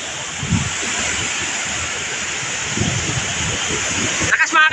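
Typhoon Uwan battering Sorsogon, a constant heavy roar of wind and rain filling the whole scene, loud and unbroken, with a person talking faintly underneath.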